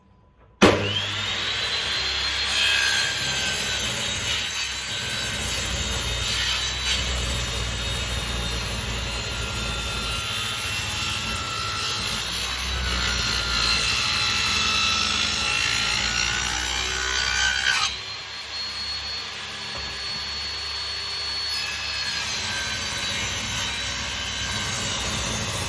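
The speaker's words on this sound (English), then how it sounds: "I'm going to use my hand plane, and my handsaw" Hand saw cutting through old wood for a mortise and tenon joint while reclaiming a century-old school desk, a steady continuous rasping that runs loud and close for most of the stretch, with no talking.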